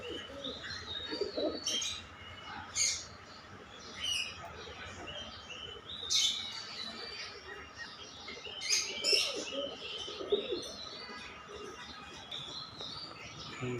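Pigeons and their chicks coo softly in a loft, with scattered chirps and tweets, occasional brief wing flaps and low background murmurs, all fairly quiet and intermittent.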